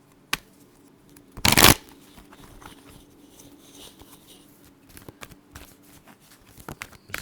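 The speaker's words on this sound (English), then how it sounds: "Just getting the cards shuffled up." Tarot cards are shuffled in a quick, crisp riffle burst near the start, followed by quieter handling sounds and light rustling.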